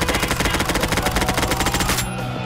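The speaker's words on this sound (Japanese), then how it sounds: "次は MP5 で迎え撃ったんで。 MP5 たったった。" An MP5 submachine gun fires in Garry's Mod, a loud, steady, rapid stream of shots for about two seconds that then stops abruptly, with no voices over it.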